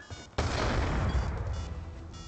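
A concussion grenade detonates in a tactical shooter game with a sudden loud blast, followed by about two seconds of dense roaring, crackling rumble that slowly fades.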